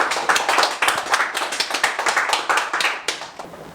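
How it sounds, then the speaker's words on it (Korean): Audience clapping at a family fortune-telling lecture, a dense run of claps rising and falling in uneven bursts for a few seconds, with no talk over it. "박수 한번 했어요"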